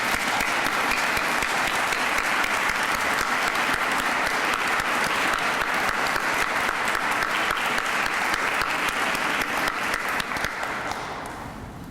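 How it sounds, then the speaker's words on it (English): A conference audience gives a sustained, dense round of applause after a performance, loud and even throughout, with no talk, before thinning and fading slightly at the very end. "And I think they deserve another round of applause."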